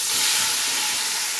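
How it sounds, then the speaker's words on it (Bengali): Boiled taro stems go into hot oil in a wok with dried chilli and cumin, giving a brief, loud, steady hissing sizzle with no talk. "এইবারে সিদ্ধ করা কচুর ডাঁটাগুলারে আস্তে আস্তে কড়াইয়ের মধ্যে"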